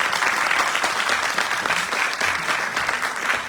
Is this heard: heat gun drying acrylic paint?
no